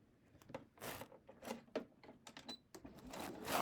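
A sewing machine stitches a fabric seam at a 1/4 inch seam allowance in short, uneven bursts, running at a slowed pace with brief pauses between runs of stitching, close and moderately quiet.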